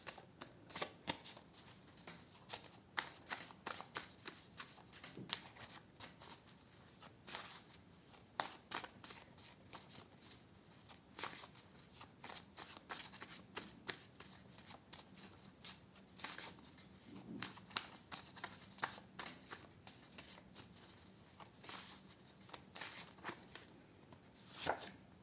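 Tarot cards being shuffled by hand, a steady run of soft, close riffling and flicking that continues throughout with no talk.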